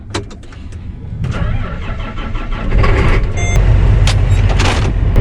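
A John Deere 9620RX tractor engine, set up for high-speed disc tillage, runs steadily as it gets going, a loud continuous low rumble that swells slightly with a few brief higher rattles and clanks, no talking.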